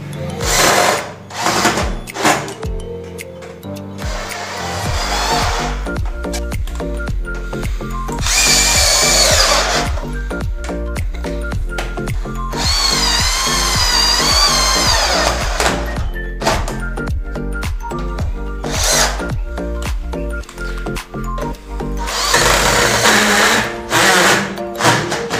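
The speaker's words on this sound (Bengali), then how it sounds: "এই তিনটি কবজা আমরা এখন এখানে নাটগুলো টাইট দিয়ে নেব একে একে" Power tool driving and tightening nuts on three PVC door hinges, one after another, with repeated bursts of whirring drill noise broken by short pauses, close and loud, no talking.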